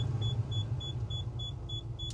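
A 2001 Kia Magentis 2.5 V6 SE's climate control beeps in a quick regular series of about eight short, high electronic tones over a low cabin and engine rumble, with no talking.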